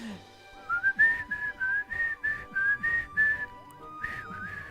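Someone whistles a short tune as a run of clear, pitched notes in an uneven melodic rhythm, close and fairly loud, ending with one slightly longer, wavering note.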